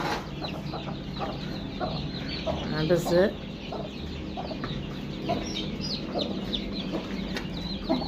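Black Australorp hens cluck repeatedly in a farmyard, their calls close and steady with occasional louder squawks over a dense flock murmur, and a voice speaks briefly in the background.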